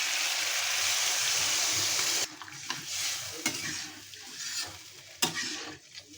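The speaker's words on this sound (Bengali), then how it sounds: "আলুটা কষানো হয়ে গেছে, একদম ভাজা ভাজা। আমি এখন জল দিয়ে দিই।" Water is poured into a pan of fried potatoes for a fish-head curry, giving a loud steady sizzle that cuts off, followed by quieter bubbling and scraping strokes of stirring.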